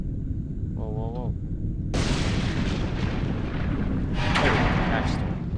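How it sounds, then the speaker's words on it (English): Ash storm in The Elder Scrolls III: Morrowind, a loud, steady roaring wind rush that starts abruptly partway in and keeps going, with a short game tone just before it and a swelling gust near the end. "Oh, ash storm."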